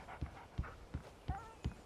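Dog in the Alan Wake video game making a pained sound, heard as five regular, evenly spaced soft pulses under low game ambience, with faint high whine-like tones between them.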